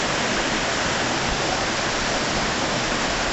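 Creek water rushes over rocks in the Hurricane Creek Wilderness, a close, steady broadband hiss of flowing water with no breaks and no voices.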